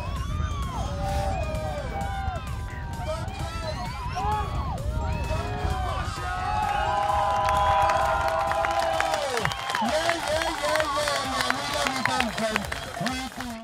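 A crowd at the 2013 3D Cup RC helicopter event cheers and applauds as a TSA 700 touches down, whoops and voices rising into a sustained ovation with lively chatter mixed in.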